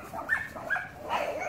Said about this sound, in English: Oh, the dogs are fighting.